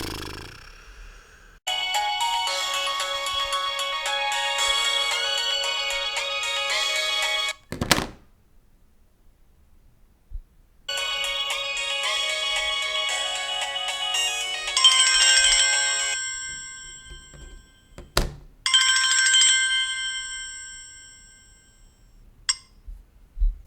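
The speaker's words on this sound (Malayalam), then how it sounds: "ഇപ്പോഴവളാണ് 5-6 ഫോണിൽ അലാം വെച്ച് തന്നേച്ച് പോയിരിക്കുന്നത്" Alarms set on several phones ring one after another indoors in the morning. Repeated bursts of a melodic, bright ringtone are broken by pauses and a few soft thumps, at moderate volume with no talking.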